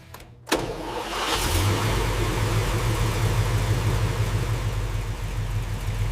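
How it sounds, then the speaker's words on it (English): A 1956 Ford Thunderbird V8, restored after years in a barn, starts and settles into a steady idle, its low rumble holding loud and close after a brief quiet start. "V8 wakes up again."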